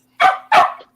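Dog barking indoors: two loud, close barks in quick succession, each with a short tail, the second ending in a faint yip.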